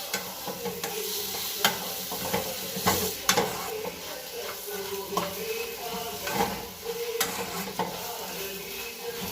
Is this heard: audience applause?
no